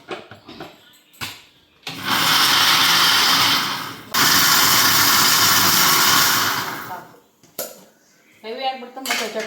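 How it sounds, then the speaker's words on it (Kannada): A kitchen mixer grinder whirs loudly for about two seconds while grinding ash gourd, stops briefly, then runs again for another two seconds, with clinking kitchen sounds before and after. "ಸ್ವಲ್ಪ ಮಿಕ್ಸಿ ಮಾಡ್ಕೊಳ್ಳೋಣ ಜಾಸ್ತಿ ಏನು ಬೇಡ ಸ್ವಲ್ಪನೇ ಮಾಡ್ಕೊಳ್ಳೋಣ"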